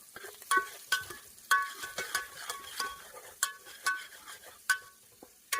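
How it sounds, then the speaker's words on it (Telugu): A spoon stirs curry in a pot with irregular clinks and scrapes against the metal, close up over a faint sizzle, with no talking. "పక్కనే ఉన్న చెంచతోటి కలుపుకోవాలి మంచిగా"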